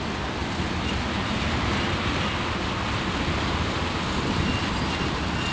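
CP 8843 leads an ethanol freight train as it slows, a loud, continuous broadband roar of rolling railcars and locomotive that holds steady throughout.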